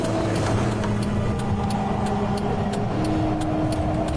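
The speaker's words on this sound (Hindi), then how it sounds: "गाड़ी चर्च के गेट पर रुकती है।" Car engine hums steadily and close as the vehicle drives up to a church gate on Christmas night in a cartoon, with faint regular ticking over the drone.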